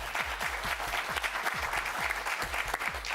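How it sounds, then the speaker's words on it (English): A small audience at a quiz bowl match claps after a correct answer, a light, fairly quiet patter of hands with a few distinct sharper claps standing out, continuous throughout. "Sure you get it right, they clap for you."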